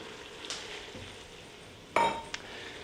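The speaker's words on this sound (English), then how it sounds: "We need to get our tomato paste in this and get it stirred in" A spatula works tomato paste into browned chili meat in a pan, with a faint steady sizzle broken by a couple of short scraping strokes and a sharper clink near the end.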